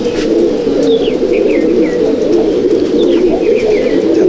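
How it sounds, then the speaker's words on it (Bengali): At an Andhra pigeon loft in Halisahar, a restless pigeon held in the hand gives soft, continuous cooing with a few faint chirps, close and steady over a constant low hum. "এত ছটফটে পায়রা মানে ধরে রাখা যাচ্ছে না।"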